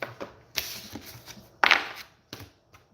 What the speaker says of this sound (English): as I was shuffling the tarot for you